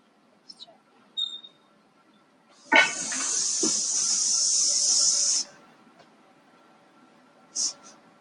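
A Kingjet KJ-1800D hybrid UV printer's vacuum suction system switches on with a loud, steady broadband hiss lasting about three seconds, framed by brief clicks and small mechanical knocks before and after.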